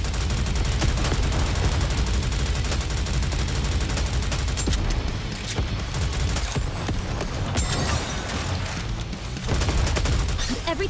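Dense, continuous cannon and gunfire from the video game Goddess of Victory: NIKKE, loud and unbroken bursts layered together for the whole stretch.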